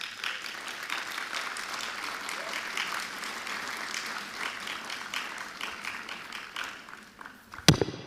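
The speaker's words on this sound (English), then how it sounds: "give them, your community, a round of applause." Steady applause from a university graduation ceremony audience fills the hall for several seconds, then fades, ending with a sharp knock.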